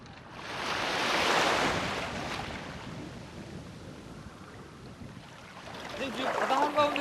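Sea waves and wind buffet the rocky shore of Naedo island in Korea, a loud steady roar of surf that swells early and then eases, with a brief murmur near the end.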